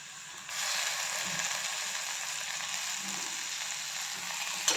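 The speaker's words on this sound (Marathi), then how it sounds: "यावरती टोमॅटोचे काप घालायचे आणि टोमॅटो पण छान परतून घ्यायचा तेलामध्ये" Tomato slices sautéing in hot oil for a fried potato sabzi, giving a steady broadband sizzle that swells after a quieter first half-second and holds evenly, with faint scraping underneath.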